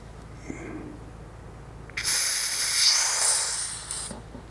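Air released from a Fox/ACT mountain bike rear shock, a sharp high hiss starting abruptly and holding steady for about two seconds before cutting off, close and loud against a quiet room.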